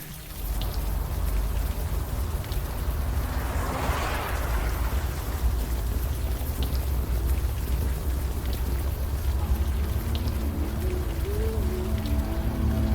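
Steady rain falls in the video game Unavowed, a dense continuous patter on surfaces with a low background rumble throughout, alone and without voices.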